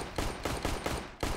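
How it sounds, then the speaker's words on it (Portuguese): Rapid gunfire in a tactical shooter match, five or six quick sharp shots in an even burst, loud and close with no talk over them. "Meu Deus do céu, errei todos os tiros."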